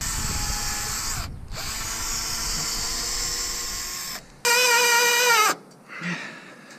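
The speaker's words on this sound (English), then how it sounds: "So I'm just gonna drill it." A power drill bores a hole for a bolt during a balcony roof build, whirring steadily for about four seconds, pausing, then running again at a higher, louder pitch before stopping with a short trailing burst.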